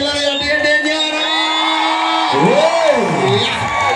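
A rally crowd whoops and cheers for MP Ndindi Nyoro, a loud sustained roar with rising shouts layered over an amplified announcer's voice.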